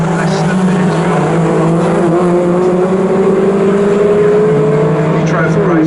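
MG race cars at Snetterton crossing the finish line on the last lap of a trophy race, a loud sustained engine drone rising steadily in pitch under a commentator's continuous talk.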